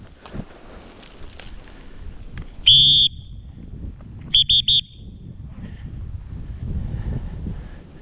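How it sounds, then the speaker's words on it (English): A falconry whistle is blown outdoors on a hunt, one sharp shrill blast followed by a quick burst of three short blasts, loud and close over steady wind noise. "Blow the whistle."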